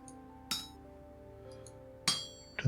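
Metal struck on an anvil in the game Vintage Story rings out in three bright, clinking hammer blows, unevenly spaced, each with a short metallic ring over a faint background drone.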